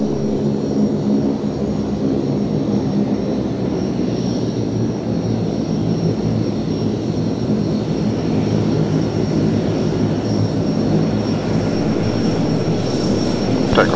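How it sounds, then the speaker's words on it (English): Diamond 19 formation aircraft at the Waddington Airshow, engines droning loudly and steadily as they taxi for takeoff, with a continuous close roar and no talking. "Take off, Diamond 19 formation."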